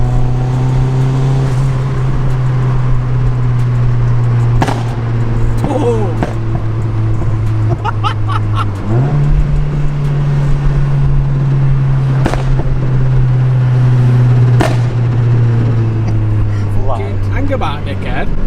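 A turbocharged Mazda MX5 engine drones loudly at steady revs, stepping up in pitch midway, while people talk excitedly inside the car. Sharp clicks and knocks punctuate it, and no clear tyre squeal stands out.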